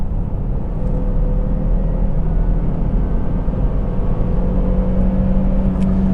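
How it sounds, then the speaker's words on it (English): A 2016 Volvo S60 Cross Country's 5-cylinder turbo engine pulls hard to pass, a steady loud cabin drone and whir with road rumble, no voices over it. "let's try to pass somebody"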